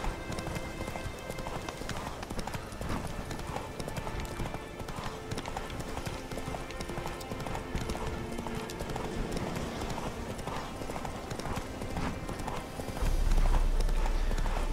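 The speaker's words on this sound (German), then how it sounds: "Gut, reiten wir nochmal eben zur Residenz." A horse ridden in The Witcher 3: Wild Hunt video game, heading toward a residence: steady, rhythmic clip-clop of hooves throughout, growing louder near the end.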